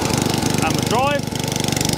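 A small engine idles after a carburetor repair, a steady, close, low pulsing putter running throughout while a person talks over it.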